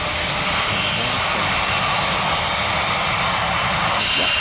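Tornado jet aircraft on the runway, a loud, steady roar of jet engines with broad rushing noise that stays constant throughout, close and without talk.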